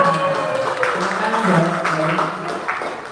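Applause for someone in a school class, with steady clapping under a speaking voice that carries over the top throughout.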